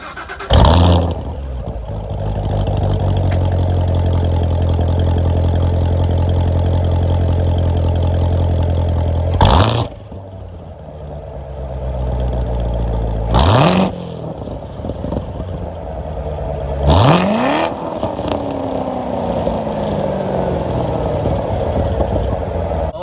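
A 2017 Corvette Z06 with a manual gearbox idles loudly up close, its engine barking through three sharp revs that spike and fall back, with no talk over it.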